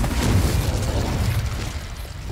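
A Confringo fire spell erupts in Hogwarts Legacy as a dense, rumbling blast that holds at full strength for about two seconds without fading, heavy low boom with crackling spread over it, close and loud.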